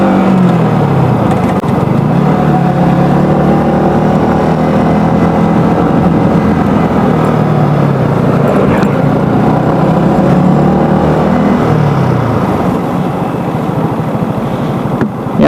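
A geared motorcycle engine labours steadily in low gear while climbing a steep, potholed hill road toward Karang Bolong in Kebumen. It makes a loud, close, continuous drone with slight rises and dips in pitch, and no voices are heard.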